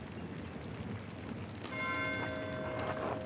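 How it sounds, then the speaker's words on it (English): A church bell in the video game Pentiment rings out partway through, its ringing tones swelling over a constant hiss of rain-like ambience, fairly faint and distant. "Why is Matthew ringing the bell?"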